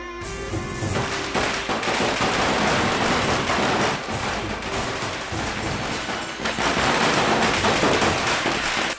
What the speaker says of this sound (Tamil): பட்டாசு சத்தம், வேட்டு சத்தம்லாம் கேக்குது.